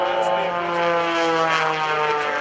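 Aerobatic propeller airplane with a steel-tube fuselage, fabric tail and carbon fiber wings performing a torque roll at a naval air station airshow, its engine a loud, steady droning roar with strong harmonic tones, held close and constant throughout.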